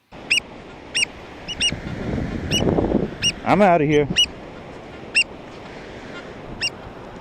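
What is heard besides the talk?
angry bird on beach honking at a metal detectorist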